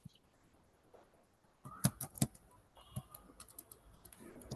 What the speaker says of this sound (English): You're very slow Giridhar in typing